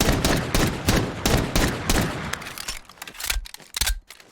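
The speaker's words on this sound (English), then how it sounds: "But if you decide to shoot the entire magazine" Desert Eagle pistol emptied in Fallout 4, a rapid string of loud, closely spaced gunshots about half a second apart, then a few sparser shots with mechanical clatter trailing off.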